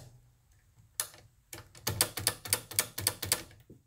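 A 22RFBR rifle with a 3-lug turbo action being cycled by hand, close and crisp, with a sharp click, a pause, then a rapid run of about ten metallic bolt clacks and ratchets before a final soft click.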